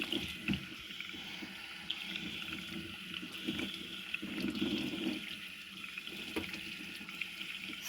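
Wild tree mushrooms being washed under running water, a steady splashing stream from a tap into a basin with faint handling noises throughout.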